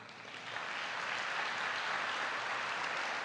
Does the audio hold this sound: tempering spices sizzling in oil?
no